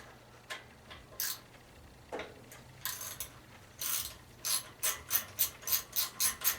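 Ratchet wrench turning out small 5/16-inch-headed machine screws holding an ignition coil on a Kohler engine of a Massey Ferguson 2818H mower, a series of close, quiet clicking bursts that speed into a steady ratcheting rhythm.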